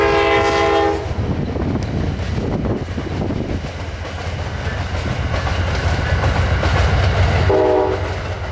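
Amtrak 145 passenger train led by a Phase 3 Heritage locomotive rolls past at close range, its horn sounding at the start and again near the end over a steady roar of rumbling wheels and clattering cars.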